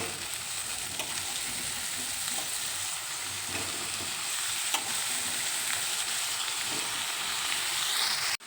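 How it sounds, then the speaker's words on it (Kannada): Ridge gourd sizzles and fries steadily in a hot pan, with faint stirring scrapes over a continuous close frying hiss and no talking. "ಹೀರೆಕಾಯಿ ಹಾಕ್ಕೊಂಡು ನೀಟಾಗಿ ಮಿಕ್ಸ್ ಕೊಡಬೇಕು"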